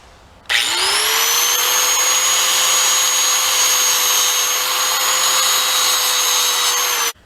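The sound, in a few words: grinder touching up drilled rivet heads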